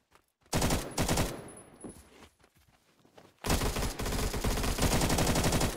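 Rapid machine-gun fire in Roblox's Phantom Forces rattles loud and close in two long bursts separated by a quieter gap of scattered distant shots.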